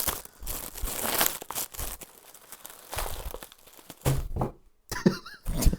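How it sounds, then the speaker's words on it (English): Thin plastic bags crinkle and tear in bursts as reptile supplies bought online are unwrapped, rustling close and loud with brief pauses between handfuls. "Everything's well packaged in traditional Chinese plastic bags."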